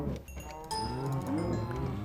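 Cows in the Minecraft video game moo in a long, drawn-out call that is loud and close, with some lighter game sounds around it.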